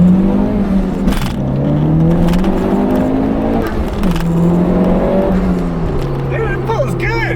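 A Honda Civic Type R engine revs with a raspy catless exhaust note, rising and falling in pitch several times while a person talks over it.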